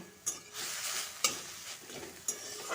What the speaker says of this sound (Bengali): ভাজবো যতক্ষণ না টমেটোটা নরম হচ্ছে আমি ভেজে নিচ্ছি